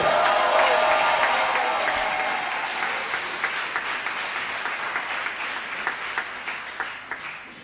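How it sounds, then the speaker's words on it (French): A church congregation at a prayer service bursts into loud applause and cheering that gradually thins into scattered, sporadic claps. "On acclame fort le Saint-Esprit."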